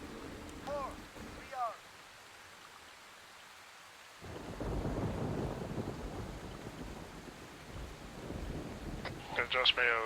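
Rain and thunder in the Arma 3 video game: steady rainfall hiss with deep rolling thunder, a sudden quiet gap, then heavier rain returning, while voices talk faintly over it.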